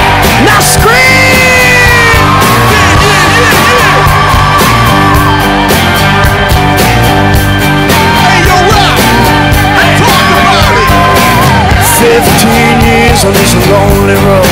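At a live rock concert, a crowd yells and screams under a very loud, dense wash of band music that runs without a break.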